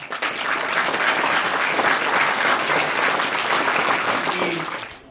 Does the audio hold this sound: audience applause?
yes